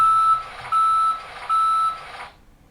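Reversing beeps from a cement mixer truck at a construction site: three loud, evenly spaced electronic tones, each lasting about half a second, then silence.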